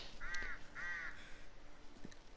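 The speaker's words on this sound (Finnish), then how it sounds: "Se on korppi." A raven calls twice in quick succession, hoarse, rasping caws that sound moderately distant over a quiet outdoor hiss, followed by a faint tap.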